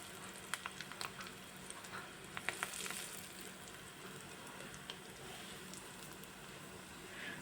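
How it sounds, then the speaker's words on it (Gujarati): Malai kofta deep-frying in hot oil in a kadai over a medium flame, a steady soft sizzle and bubbling with a few sharper crackles and pops near the start, continuous and close throughout. "મીડિયમ ગેસે આપણે કોફતાને તરી લેશું કઢાઈમાં જેટલા આવશે તેટલા આપણે તરવા મૂકી દઈશું"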